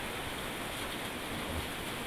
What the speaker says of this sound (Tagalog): Lakas ulan.